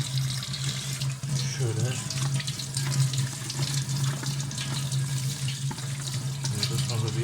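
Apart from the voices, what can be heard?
rinsing dishwasher parts under a running tap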